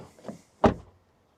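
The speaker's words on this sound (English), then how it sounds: "Then door closing sound is not too bad." The door of a 2024 Suzuki Swift shuts once with a single short, dull thud, quiet and close, after a faint rustle.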